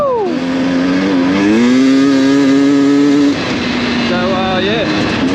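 A 2023 Sherco enduro motorcycle engine revs, its pitch climbing and holding steady as a loud close drone, then dropping and rising again in a shorter rev, with no talking over it.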